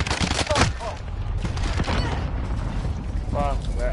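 Bomb being planted during a Search and Destroy round of Call of Duty: Modern Warfare, a busy stretch of mechanical clicks and handling sounds mixed with bursts of gunfire, with players talking over the action throughout.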